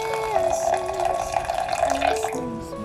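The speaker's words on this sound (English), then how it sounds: "And over this I'm going to pour 100 milliliters of water." Water is poured over lavender to steep it like tea, 100 milliliters in a steady close trickle that runs for a few seconds before tapering off.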